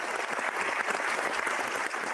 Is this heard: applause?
yes